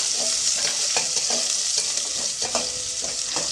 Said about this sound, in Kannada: ಈರುಳ್ಳಿನ ಹಾಕಿದ ಮೇಲೆ ಒಂದು ಸ್ವಲ್ಪ ಈರುಳ್ಳಿ ಫ್ರೈ ಆಗಬೇಕು